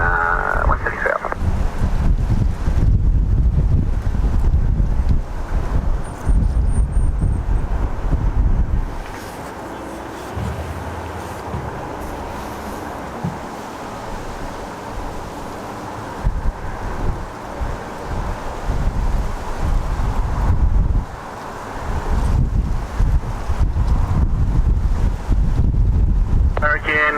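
Strong gusty wind buffets the microphone during an aircraft landing on runway 31R, a loud continuous rushing roar that swells and eases with the gusts.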